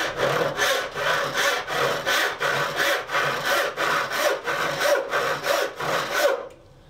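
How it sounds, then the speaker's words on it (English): A handsaw rip-cuts along a wooden board in a steady rhythm of about a dozen rasping push-and-pull strokes, close and loud, ending abruptly. "This one is set up to do a rip, so that I can make a board that'll clamp into the vise."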